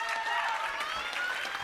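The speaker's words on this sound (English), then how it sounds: "Let's give her a round of applause." Applause at a women's collective leadership celebration at a conference, a dense, fairly loud wash of clapping lasting under two seconds with a thin sustained tone running through it.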